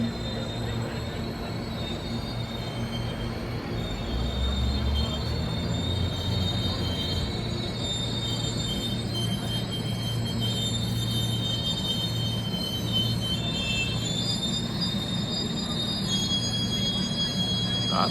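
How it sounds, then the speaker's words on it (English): The Canyon Spirit passenger train arrives on the Denver to Salt Lake City route: a steady, heavy rumble of rolling railcars with a thin squeal from the wheels, running continuously and fairly loud throughout. "Here comes the train."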